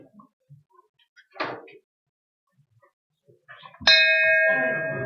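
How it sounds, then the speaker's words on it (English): A bell rung at a town council meeting gives one bright, ringing strike that sustains and slowly decays, preceded by a few soft knocks and muffled room sounds. "You guys barely get the bell to work."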